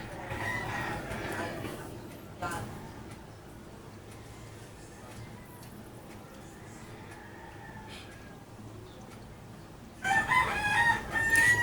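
A rooster crows loudly and nearby in a home kitchen setting while breakfast fritters cook, with a long drawn-out call at the start and another near the end over quiet background sizzling and room noise.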